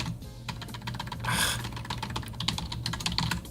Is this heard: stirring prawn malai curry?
no